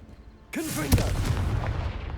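A Confringo blasting-spell explosion in Hogwarts Legacy goes off as a sudden loud fiery burst with a sharp crack just after it. A sustained roaring rumble carries on to the end.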